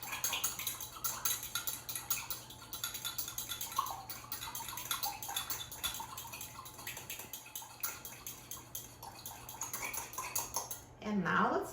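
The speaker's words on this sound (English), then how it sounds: "And now I'm going to whisk the dressing with a fork." A fork whisks balsamic vinegar salad dressing in a bowl, giving quick, light metallic clinks and scrapes in a steady rhythm throughout, close to the listener.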